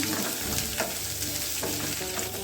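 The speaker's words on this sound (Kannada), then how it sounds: "ದೊಡ್ಡ ನೀರುಳ್ಳಿ ಕಟ್ ಮಾಡಿ ಇಟ್ಕೊಂಡಿದ್ವಿ ಹಾಗೆ ಸ್ವಲ್ಪ ಒಂದು ಐದಾರು ಹಸಿಲು ಬೆಳ್ಳುಳ್ಳಿ ಜಜ್ಜಿಟ್ಕೊಂಡಿದ್ವಿ ಅದನ್ನ ಹಾಕ್ಕೊಳ್ಳೋಣ ಚೆನ್ನಾಗಿ ಫ್ರೈ ಮಾಡೋಣ" Chopped onion and crushed garlic sizzle steadily in hot oil in a pan, with a close, continuous fry and light stirring scrapes throughout.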